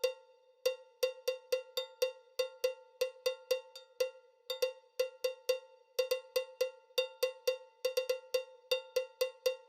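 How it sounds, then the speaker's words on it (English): A cowbell plays as an accent in a music mix, with bright metallic strikes repeating in quick rhythmic groups and short gaps between sections. No other instruments or voices come through. "Let's listen to the cowbell here."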